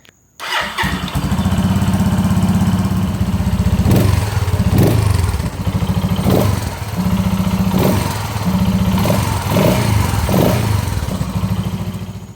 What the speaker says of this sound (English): Just a single cylinder, single exhaust. Kind of sounds like a sewing machine.